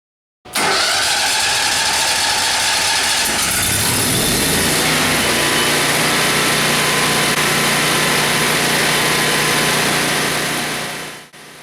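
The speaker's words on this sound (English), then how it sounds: "What you are watching is a demonstration of a prototype machine which is producing hydrogen on demand." A prototype machine producing hydrogen from water on demand runs with a steady, loud mechanical hum and hiss that starts abruptly, shifts character after a few seconds, then holds constant before fading at the end.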